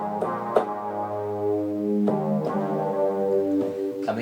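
Deep, warm synth bass with a long envelope in the style of an 80s hit, sustained notes gliding through a few changes beneath soft upper harmonics, played alone with no talk.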